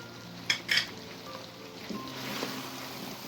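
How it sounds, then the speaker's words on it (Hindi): A spoon stirs a spice masala mixture for chicken biryani in a pot, with two short scraping clinks early on, then a low background hiss with faint utensil sounds. "और इसको अच्छी तरह मिक्स कर लेंगे"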